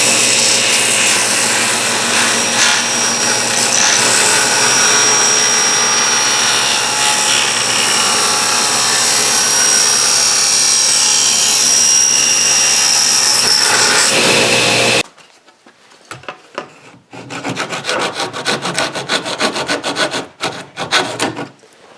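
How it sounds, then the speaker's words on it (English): A table saw cutting a wooden chest foot freehand: a loud, continuous high whine for about fifteen seconds, then it cuts off abruptly, followed by quieter irregular rubbing and knocking noises. "Now, I cut them off freehand on the table saw as you saw me doing."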